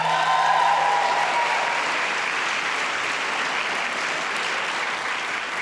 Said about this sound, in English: please, one more round of applause for our class of 2023.